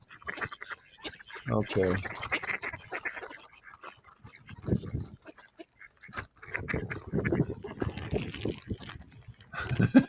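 Male and female mallard ducks quack and honk in scattered bursts while being fed outdoors, close by, with a person speaking briefly among the calls.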